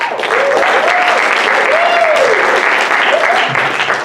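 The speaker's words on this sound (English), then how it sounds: "I very much appreciate that ecstatic applause" Audience applause greets a stand-up comedian taking the stage at a comedy show, a steady, loud, dense clapping wash that fills the whole stretch, with a few faint whoops rising above it.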